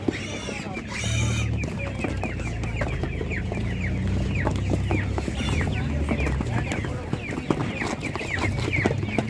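Chickens, including Master Grey and Spanish breeds, cluck and squawk in a busy poultry market, with repeated close calls and a brief shrill cry layered over a crowd murmur.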